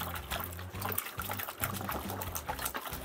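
Running water rinses soap off a printed waterproof sticker, a steady close splashing trickle with a faint rhythmic hum underneath.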